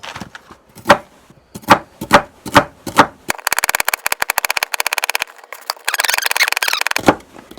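Knife chopping celery on a board with a rocking motion: several separate loud chops, then a fast run of rapid close taps, a short pause and a few more.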